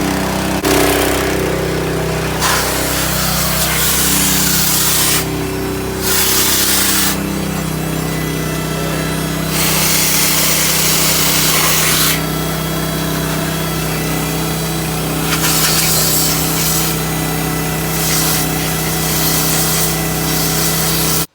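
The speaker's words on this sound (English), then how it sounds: "he's clearly sandblasting part of the frame here" Loud, continuous hissing blasts of a sandblaster work on the frame of a Cummins 2500 truck under restoration, starting and stopping repeatedly over a steady engine drone.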